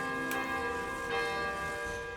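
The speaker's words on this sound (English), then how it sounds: "This little bell, I can actually move it." A small bell in a Zelda game chimes as it is moved while searching for a korok, two soft ringing strikes a little under a second apart, each with a lingering metallic tone.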